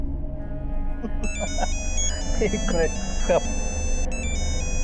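A phone ringtone chimes in a repeating electronic pattern while people talk close by over a steady background hum.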